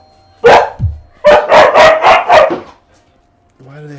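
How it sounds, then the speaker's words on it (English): Several dogs bark at a food delivery being dropped off at a house, a single sharp bark followed by a quick run of five loud, close barks, with a person speaking briefly afterward. "That's why the dogs are going crazy."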